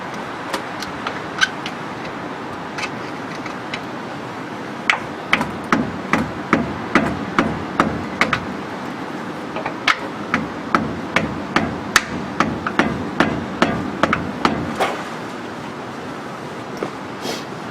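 Repeated hammer blows strike the aluminum Mag HyTec front differential cover on a Dodge Ram 2500, a steady series of sharp metallic taps of uneven force. They ring out close and clear with no talking.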